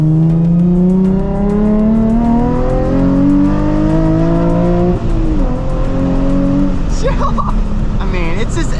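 A Nissan 350Z engine revs hard through rising gear pulls, then drops pitch on downshifts with blips while driving, loud and close from inside the car, with talk over it near the end.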